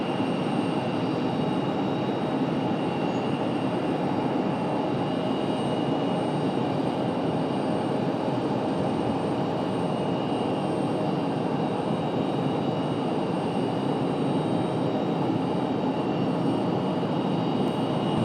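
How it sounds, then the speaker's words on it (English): Breeze Airways airliner in flight over Raleigh-Durham airport, a constant low engine drone with a faint steady whine layered on top, heard at a distance without speech. "As you see, Breeze Airways cutting through the clouds here."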